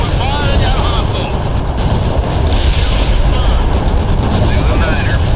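Abrams tank cannon fire in the World in Conflict war game, dense and loud battle noise throughout with rumbling low booms and engine roar, radio chatter from voices layered over it.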